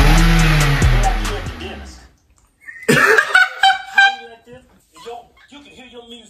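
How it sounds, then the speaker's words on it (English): A car engine roars loudly for about two seconds, then cuts out; afterward people talk and exclaim over the quiet. "If you drive your car like this."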